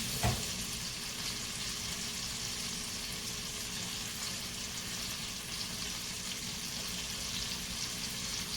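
Scallops sizzle and fry in a hot pan, a steady crackling hiss that holds even and continuous throughout with no talking.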